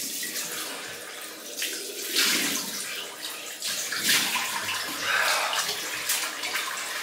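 Water splashes and trickles as a razor and face are rinsed during a wet shave, with an alum block about to be used; steady close running-water sounds with brief louder surges, no talking.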